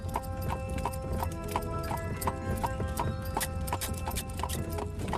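A horse walks at a steady pace, its hooves clip-clopping in a regular rhythm close by over a low rumbling background, with no talk.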